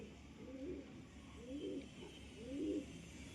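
Three soft, low pigeon coos repeat at roughly one-second intervals, each a throaty rolling call, over a quiet steady background hum.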